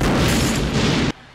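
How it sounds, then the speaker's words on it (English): A big explosion in the 1990 film Marked for Death erupts as a loud, dense, sustained boom that fills the sound and then cuts off abruptly. "Big ass explosion coming."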